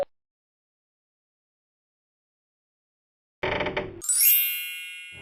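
After a long silence, a house doorbell goes off: first a short buzzy burst, then a bright electronic chime that rings out and slowly fades, fairly loud and close with no talk over it.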